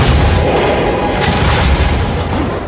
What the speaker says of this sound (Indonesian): Bomnya meledak dan Doc pun tewas.